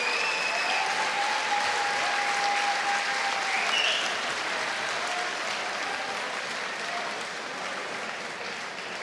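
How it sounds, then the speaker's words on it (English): A boxing arena crowd applauds both fighters after a twelve-round bout, a dense, sustained wash of clapping and cheering that holds steady, then eases slightly, with faint voices and whistles mixed in. "let's get a round of applause for both warriors who gave it everything here tonight"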